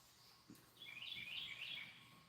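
A couple of birds chirp and twitter in an early morning on a drizzly day, a quick bright cluster of calls at moderate distance over soft background hiss, with no talking.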